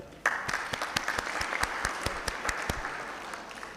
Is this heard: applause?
yes